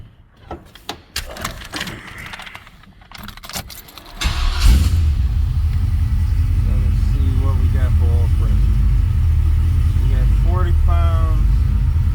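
A 1978 Chevy Malibu with a carbureted LS swap settles into a low, steady idle after a burst of clattering and jangling, with a voice speaking briefly over the rumble.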